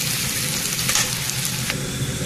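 Ginger garlic paste frying in hot oil with cinnamon, cumin and sugar, a steady broadband sizzle that holds at even loudness for the whole stretch, close and continuous, with no one talking.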